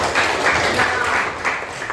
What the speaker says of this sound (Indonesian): Tepuk tangan buat Gigi dulu.